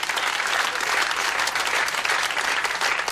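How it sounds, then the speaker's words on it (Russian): Steady, dense audience applause fills the whole stretch at a comedy stage show, sustained clapping from a crowd without breaks or speech on top. "Давайте поаплодируем ему авансом"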